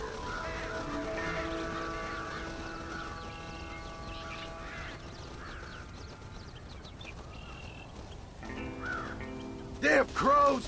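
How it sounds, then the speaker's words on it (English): Crows in the Red Dead Redemption video game caw in loud, harsh bursts near the end, over a steady bed of game ambience and tonal music. "Damn crows!"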